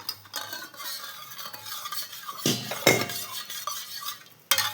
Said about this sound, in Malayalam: എന്നിട്ട് നമുക്കിതൊന്ന് ഇളക്കുക.